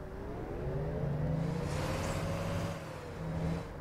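An old Volvo bus engine in the OMSI 2 bus simulator on the Helsinki map gives a moderate, steady hum with a slowly rising whine, swelling slightly near the end.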